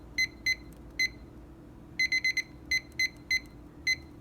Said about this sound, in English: I'll set 1 hour on the kitchen timer.